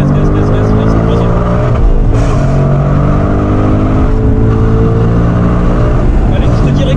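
A 2024 Mustang Dark Horse accelerates hard in third gear on a race track, its engine a loud, continuous rising roar heard from close up, with voices talking over it.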